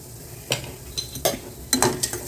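Onions are lightly sautéed with turmeric in a pan for rasam, a faint sizzle under several quick, sharp scrapes and clinks of a spoon against the pan, close by.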